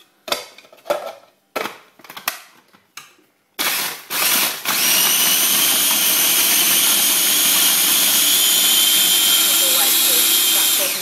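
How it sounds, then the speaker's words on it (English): A kitchen grinder pulses ingredients for an ice cream cone cake topper in several short bursts, then runs continuously in a loud, steady whir nearby. "Just pulse it or grind it till it's combined"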